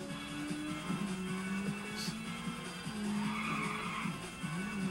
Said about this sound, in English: You can actually drift with the Ultra Racer.